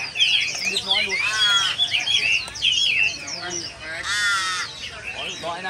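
Crows caw repeatedly among other chirping birds at a busy bird-of-prey market in Hai Phong, with harsh calls overlapping steadily throughout while people talk in the background.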